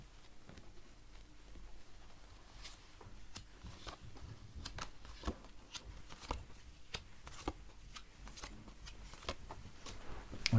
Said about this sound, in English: I will put down some cards because that's what I'm here for